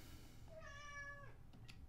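A house cat meows once, a clear, drawn-out tonal cry close by, followed by a couple of faint soft noises over a low room hum.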